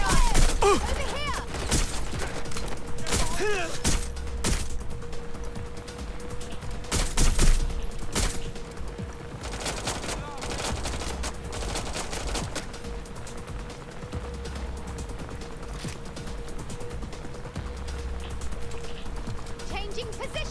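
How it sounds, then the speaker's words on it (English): Sustained gunfire in Watch Dogs Legion, a video game: bursts of shots and rapid automatic fire crackle throughout, loud and near, with a few sharper louder volleys, over a steady background hum. "We've got gunfire!"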